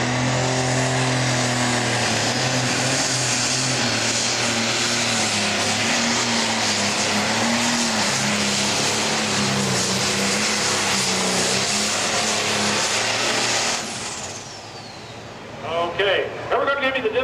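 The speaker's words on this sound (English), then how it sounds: "Now it's the Scoundrel tractor." The Scoundrel pro stock tractor making its pull at a Mansfield, Ohio tractor pulling event, a loud, sustained roaring engine drone that holds steady before cutting off abruptly near the end, followed by crowd noise and a voice.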